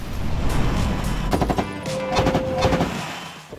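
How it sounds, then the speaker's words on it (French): T-80 tank in combat firing its machine gun nearly simultaneously with its 125 mm main cannon; loud rapid bursts of automatic fire with heavy blasts, close and dense, with no voices. "Ici, vous tirez presque simultanément avec la mitrailleuse et le canon de char"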